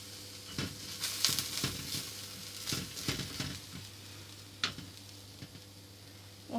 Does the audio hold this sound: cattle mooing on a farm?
no